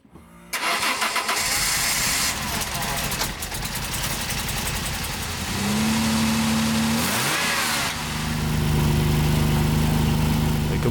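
A Peugeot 605 V6 under renovation runs steadily nearby, its engine note rising into revs and settling back, with a brief rougher burst and a sustained tone partway through.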